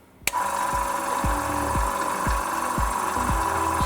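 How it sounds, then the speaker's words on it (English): An air compressor for an airbrush kicks on with a sharp start, then runs as a steady close motor drone with a regular chugging pulse about twice a second. "So firing up the compressor."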